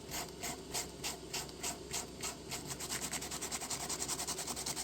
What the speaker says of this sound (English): When you hit it with the sandpaper,